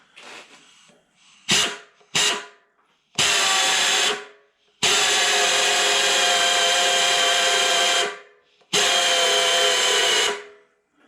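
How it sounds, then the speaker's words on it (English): High-speed compressed-air drill boring into metal on a milling machine, a loud, steady, high-pitched whine in several bursts: two brief spurts, then longer runs lasting a few seconds each, separated by silence. "drilling in this sort of situation, I always prefer to use the air drill because it's very high speed"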